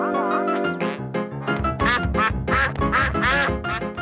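A cartoon duck from the Pocoyo animated series quacks repeatedly, loud and close, a run of nasal honking calls after a brief musical note, with no speech over it.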